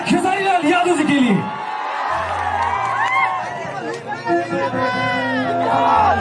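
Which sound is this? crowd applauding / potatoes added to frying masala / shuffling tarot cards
crowd applauding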